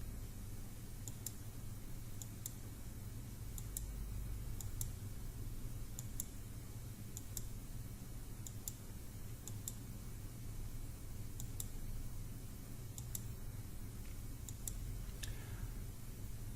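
Computer mouse clicks while editing in Lightroom, sharp light clicks mostly in pairs at irregular intervals over a steady low hum, close and quiet, no talk.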